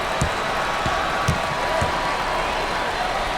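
A steady, dense crowd roar fills a college basketball arena in the NCAA Basketball 10 video game during a Georgia Southern vs Tennessee matchup, holding at an even level with a few faint peaks.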